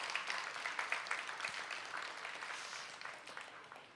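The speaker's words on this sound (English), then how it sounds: "let's give them a round of applause" A crowd applauds at the Ohio State Fair's 4-H health and safety skit competition. The clapping is faint and distant, a busy, even patter of many hands that slowly fades away.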